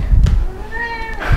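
A cat meows in a drawn-out, rising-and-falling call near the microphone, with brief rustling noise before and after it.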